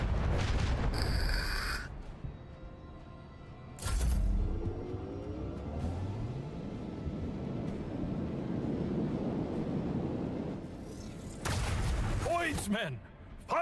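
Macro cannons of a starship fire a salvo in Warhammer 40,000: Rogue Trader, heavy booms and rumbling blasts rolling out over several seconds amid game sounds, with a sharp burst of impacts near the end.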